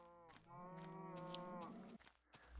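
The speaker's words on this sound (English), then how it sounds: "You're a cow." A single long, low cow moo from a Minecraft cow, with a droning, nasal tone, followed by a few brief soft noises; no one speaks.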